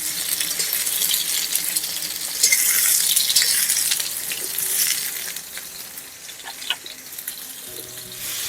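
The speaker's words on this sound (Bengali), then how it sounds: "ঝিঙাগুলো সুন্দর ভাজা ভাজা হয়ে আসছে।" Sliced ridge gourd frying in a pan, a steady crackling sizzle that swells louder briefly and then settles, with a few small clinks near the end.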